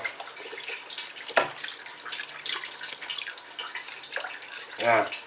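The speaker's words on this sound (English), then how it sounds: "And also add a little bit more water." Water is poured into a lamb meatball mixture in a kitchen, with soft splashing and a couple of sharper pours or drips standing out over faint background noise.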